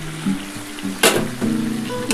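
Ground spice paste hits hot oil in a pan of dhaba-style chicken curry, bursting into a loud, sharp sizzle about midway, with scraping and stirring sounds before and after, close up and without talk.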